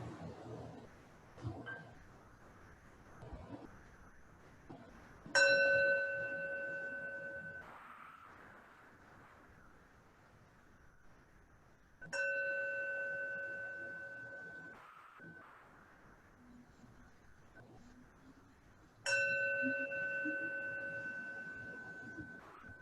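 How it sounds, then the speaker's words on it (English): A meditation bell is struck three times at even intervals, each ring a clear, bright metallic strike that blooms into a long sustained tone and slowly fades into near silence. "As I ring the bell 3 times and we come back to our shared space."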